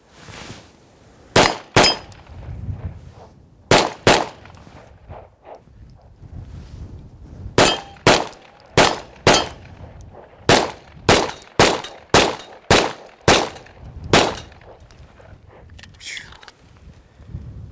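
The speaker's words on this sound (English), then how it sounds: "Let's see how quick we can do some double taps on that dirty steel next to it." Watchtower Apache 9mm pistol fired in quick pairs at a steel target outdoors, loud sharp cracks in rapid double taps with faint metallic pings from the steel, a string of shots after a few spaced ones, with voices talking in between.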